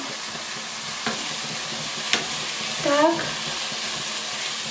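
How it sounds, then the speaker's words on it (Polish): Two potatoes go into a pot of creamy mushroom soup and are stirred, giving soft clatters and scraping amid a steady sizzle, with a short spoken word near the middle. "dodam teraz już ziemniaczki nasze"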